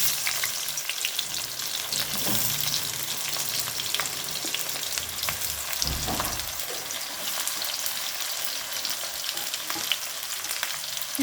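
Chopped onions frying in hot oil for a loitta fish dish, a steady close sizzle with occasional stirring scrapes, continuous and fairly loud with no talking.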